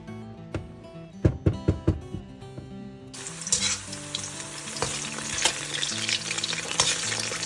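Potatoes frying in a pan: after a few seconds of quieter sounds with some sharp knocks, a loud, dense, crackling sizzle begins and continues steadily to the end, close by, with no speech.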